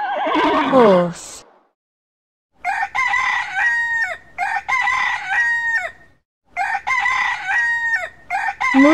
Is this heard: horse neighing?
yes